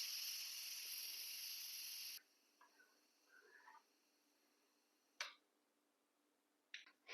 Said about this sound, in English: we're ready to release the rest of that steam.